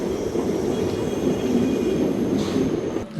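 The Tungabhadra Express pulls out of Malakpet station with a steady, continuous rumble of rolling wheels and carriages, moderately loud and unbroken by voices.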